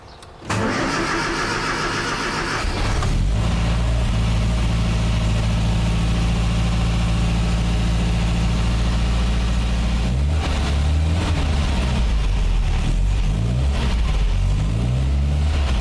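An MGA Roadster engine cranks and catches on the choke at the start, then settles into a steady, loud, close idle with a slight change in its note toward the end.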